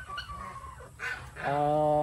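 Chickens on a rain-soaked farm give a few short clucks and one brief drawn-out call, fairly close, with a voice speaking around them.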